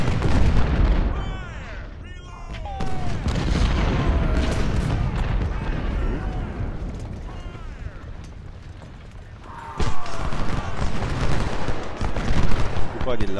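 Cannon and artillery fire in the Civil War video game Ultimate General: Civil War, with repeated heavy booms and rattling gunfire through a noisy battle. A voice speaks over the fighting, and the din swells louder near the end.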